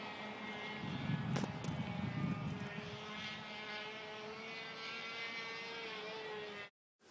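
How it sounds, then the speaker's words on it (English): RC model airplane diving straight down at full speed with a broken aileron, a sustained whining motor and propeller drone with a rumbling gust early on, ending in a sudden cutoff to silence. "the airplane is going straight down at full speed with a broken aileron"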